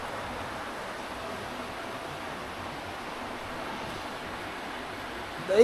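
Rainbow Stream rushes in the snowy 100 mile wilderness, a steady broadband flow of water heard close, constant and unbroken, with a brief louder knock at the very end.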